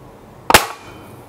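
A single sharp crack from a .177 calibre 4.5 mm 550 Sports air rifle fired at a target, close and brief, standing alone against quiet background.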